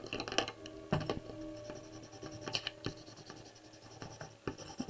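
Green colored pencil scratches across paper up close, with short irregular strokes and taps in a steady working rhythm, some strokes louder and sharper than others, heard alone without talk.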